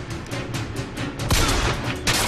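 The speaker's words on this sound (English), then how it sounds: "Come on, dude, shoot at somebody." Gunfire from the video game BioShock Infinite: a run of sharp, loud shots in quick irregular bursts, with a heavier blast near the middle, over a busy game soundscape.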